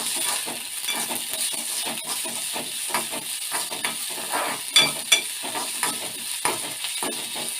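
Coriander and salt sizzle in a pan for tomato chutney, a steady frying hiss broken by repeated stirring scrapes and light clinks of the spatula close by.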